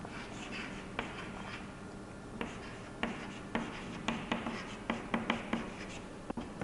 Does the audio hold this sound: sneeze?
no